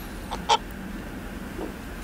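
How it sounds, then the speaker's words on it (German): A hen gives a couple of short, close clucks against quiet background noise. "Die Henne natürlich."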